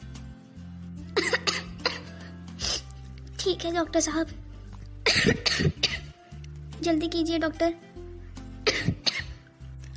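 Repeated bursts of coughing in several fits, close by, with people talking between them.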